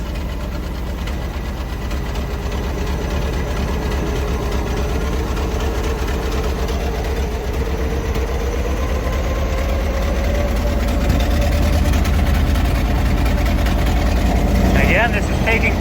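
A 1925 Ford Model TT fire engine runs with a steady, loud low chugging rumble and knocking rhythm close by, while someone talks over it.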